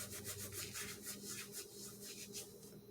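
Dried oregano and thyme are crushed between the heel of one hand and the palm of the other, a faint, close, rhythmic dry rasping of repeated strokes with no talking.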